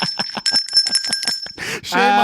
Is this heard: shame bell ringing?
yes